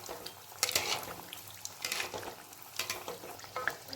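Malpua, a sweet fried batter cake, fries in hot oil with a soft, close sizzle and bursts of crackling spatter rising and falling over a few seconds, fairly quiet.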